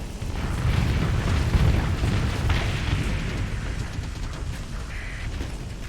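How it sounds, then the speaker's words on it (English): Missile hits exploding against ships in the space combat game Starsector, a dense, continuous rumble of overlapping booms and bursts, loud and steady for the whole stretch with no talk. "A few missile hits there."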